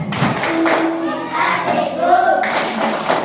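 Children in a primary classroom clap and chant together in a rhythmic group cheer, with hand claps and young voices mixed across the whole stretch at steady volume.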